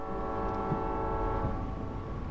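A train in The Walking Dead video game sounds its horn with a steady, sustained multi-tone blast over the rumble of rolling wheels, moderately loud and continuous.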